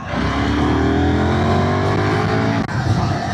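A KTM 990 Duke R's V-twin engine revs up loudly and close in third gear, its pitch climbing steadily under acceleration before a brief dip as it shifts gear.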